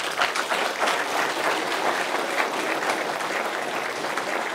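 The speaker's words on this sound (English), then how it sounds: "Hoorah and clapping and all that." Steady audience applause from a crowd at a Buddhist teaching on the Shurangama Sutra, dense continuous clapping holding even and loud throughout with no speech over it.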